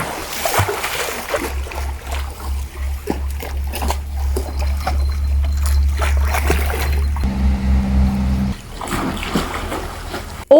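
Water splashes and sloshes in an outdoor swimming pool, a continuous loud churning wash that shifts and thins near the end, with a low steady rumble underneath.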